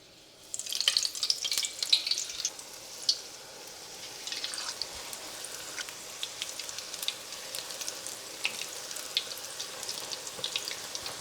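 Batter-coated spinach leaves fry for pakoda in hot oil, starting with a loud crackling burst as they go in, then settling into a steady, close bubbling sizzle with scattered pops.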